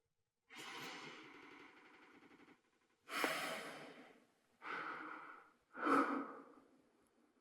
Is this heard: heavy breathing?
yes